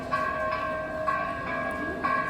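A temple bell rings at Tirumala, struck about twice a second, each clang leaving a bright, lingering tone at moderate volume.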